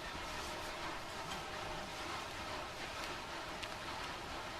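Steady rain pours down continuously at an even, moderate level, a dense broadband hiss with faint scattered drops and no voices.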